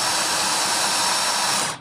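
A DeWalt DCD706 brushless cordless drill drives screws into a ceramic lamp holder, a loud, steady whirring that runs continuously for nearly two seconds and then cuts off abruptly.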